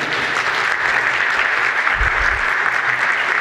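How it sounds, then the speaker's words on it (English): At a Wilmer-Hutchins High School dedication ceremony in Dallas, an audience gives a loud, sustained round of applause for the NJROTC leadership and singers, dense and continuous throughout. "Let's give them another round of applause, please"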